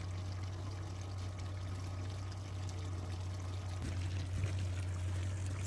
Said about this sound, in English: we're trying to fill the mini pool of water